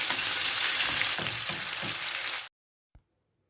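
Pitted dates cooking in melted ghee, a loud dense sizzle for about two and a half seconds that cuts off abruptly into silence, followed by one faint knock.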